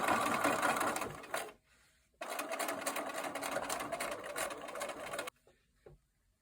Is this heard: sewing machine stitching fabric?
yes